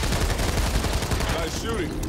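Rapid bursts of gunfire fill a frantic firefight in the video game Back 4 Blood, a dense run of shots close up and loud.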